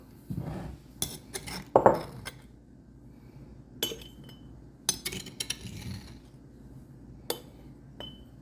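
A glass jar of homemade onion powder, made from homegrown onions dried in a Denali Beast dehydrator, is picked up and handled, giving scattered soft clinks, taps and light knocks at close range with no talking.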